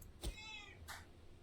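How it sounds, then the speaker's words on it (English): A house cat gives a single short meow, faint and close by, followed by a softer breathy sound, over quiet background noise. "Sorry, that's my cat."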